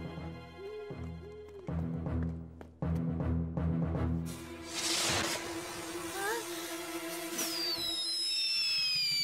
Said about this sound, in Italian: Oh no, i fuochi d'artificio.